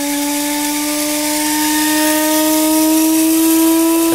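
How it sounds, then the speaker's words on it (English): A coffee grinder runs steadily with a continuous high whirring hum that rises slightly in pitch, loud and close with no talking. "Let's just press the button. There goes the grinder."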